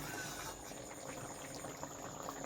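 Katla fish curry simmers in a pot, a steady faint bubbling boil that runs continuously for a few seconds with no talking.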